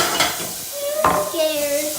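Garlic, onion, herbs and peppercorns sizzling in a pan for a peppercorn sauce, a close, bright hiss with a quick stir and a clink of utensil against the pan.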